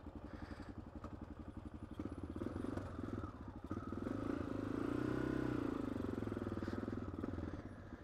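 A Yamaha Tenere motorcycle engine runs close by, its mid-range rumble swelling and easing as the bike rides along, with some clatter and no talking.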